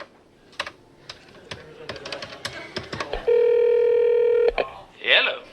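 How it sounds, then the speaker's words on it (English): Someone dialing a telephone number: a string of irregular button clicks, then a long steady dual-tone beep lasting about a second, followed by a brief rustle near the end. "Let me call Kramer and see if you can hear anything."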